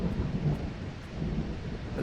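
Steady rain falling outdoors at a house building site, with a low rumble of thunder rolling underneath the constant hiss of the downpour, fairly loud and close throughout.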